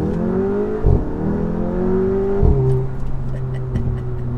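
An Audi A3/S3 accelerates hard with traction control switched off, its engine note climbing steadily through the gears with short breaks at each gear change, heard from inside the car.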